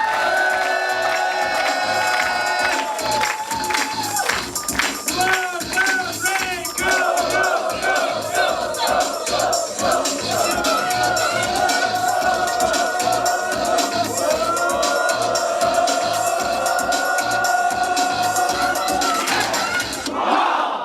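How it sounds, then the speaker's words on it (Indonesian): A large seminar audience at a trainers' event cheers and shouts loudly, a sustained roar of crowd voices that swells and stays dense for around twenty seconds before cutting off abruptly. "Boleh saya minta tepuk tangan yang sangat meriah"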